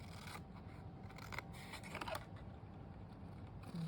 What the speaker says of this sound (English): I'm going to cut it up until the score line.